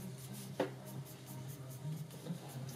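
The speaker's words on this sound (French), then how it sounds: "juste le crayon de papier, le critérium pour marquer mes ombres." A mechanical pencil makes short, quiet scratching strokes on paper while shadows are shaded in during a life drawing session, with light rhythmic rubbing throughout.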